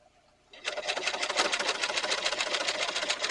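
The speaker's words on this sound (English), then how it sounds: "It's still stitching through 2 thicknesses of pigskin" An electric sewing machine starts up and runs steadily, stitching through two layers of pigskin leather with a fast, even mechanical chatter, loud and close.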